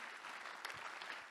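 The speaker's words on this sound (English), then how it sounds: "Give yourselves and them a round of applause, please." Award ceremony audience applauding in a hall, a brief, faint, distant patter of clapping heard alone.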